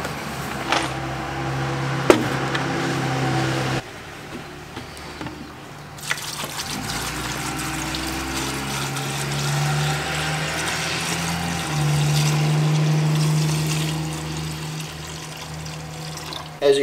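Apple cider vinegar poured into a big bucket, giving a steady liquid trickling and filling sound that runs for most of the stretch with some handling noise.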